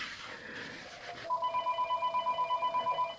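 A home telephone starts ringing after a stretch of bathroom demolition noise, its electronic warble repeating in rapid regular pulses at moderate volume, fairly close by.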